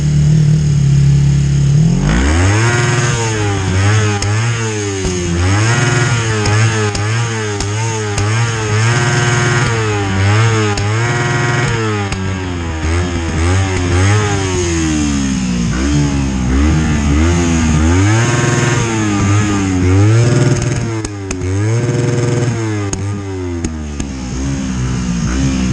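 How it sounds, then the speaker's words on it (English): Loud, nearby 250cc motorcycle with a free-flowing, non-California-spec exhaust, revved again and again in rising and falling bursts over a steady idle, with no one talking. "The exhaust system on it was fantastic though. It was very loud and had a really nice tone for a 250."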